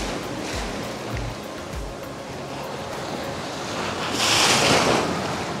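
Strong ocean surf pounds La Union beach in the Philippines, a steady loud wash of breaking waves with heavy wind buffeting the microphone and a surge that swells near the end.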